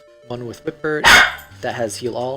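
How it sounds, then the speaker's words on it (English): A single sharp dog bark sounds nearby in a home, loud and brief, landing in the middle of steady speech that continues before and after it. "sorry for the dog"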